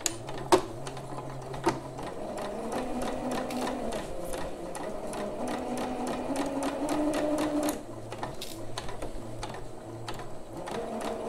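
A domestic sewing machine stitches a Maya bra in a steady rapid run, pausing briefly near the start and again around the eighth second before resuming, close and clear with no talk.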